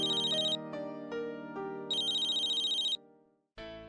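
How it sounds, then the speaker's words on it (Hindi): A telephone ringtone plays in repeated bursts with short gaps, bright electronic tones over a steady low hum, clear and close. "पूर्वी का फोन इतनी रात को"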